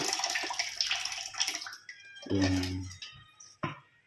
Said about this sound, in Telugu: దీంట్లో మళ్ళీ కూల్ వాటర్ పోస్తుంది